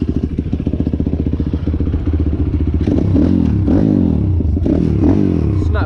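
An Apollo RFN 140cc pit bike engine putters close by at first, then revs and rises in pitch as it pulls away, with a loud, rough exhaust and clattering.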